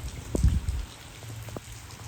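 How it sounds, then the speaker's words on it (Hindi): Heavy rain falling in a Pakistani village, a soft continuous patter with a few close droplet knocks near the start, alone without talk. "बड़ी ज़बरदस्त बारिश हो रही है"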